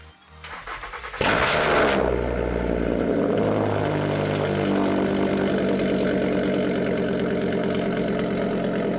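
A VW MK6 Golf engine cranks and fires loudly after a moment of quiet, then settles into a steady, slightly rough idle that runs on close by without talk.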